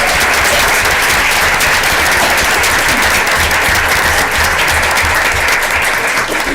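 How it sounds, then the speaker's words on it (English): A school board meeting audience gives steady, dense applause for students, a full room clapping loudly and continuously with no talk over it. "Could we just give them a quick round of applause?"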